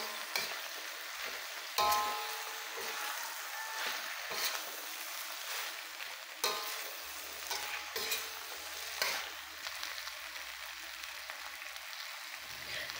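Pinakbet vegetables with pork sizzle and fry in a pan while a utensil stirs them, scraping and clattering in irregular bursts over a constant close, hissing sizzle.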